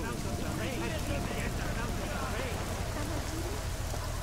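Steady rain from the video game Deus Ex: Mankind Divided hisses as a dense, continuous wash, with voices talking faintly underneath throughout.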